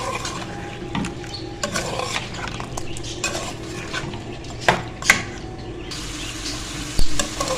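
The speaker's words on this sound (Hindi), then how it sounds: "अच्छे से इसको मिक्स करेंगे और थोड़ा सा इसको मसालों के साथ भूनेंगे गोश्त को।" Mutton karahi gosht being stirred and fried with spices in a pot: steady scraping and clinking of a spoon against metal with a soft sizzle underneath, a few louder knocks near the end.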